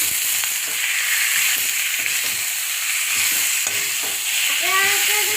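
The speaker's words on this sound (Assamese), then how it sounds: "এতিয়া বঢ়িয়াকে ভাজি দিব" Chicken fries in a spiced masala with a loud, continuous sizzle and hiss, broken by soft scraping stir strokes, and a brief voice-like tone rises near the end.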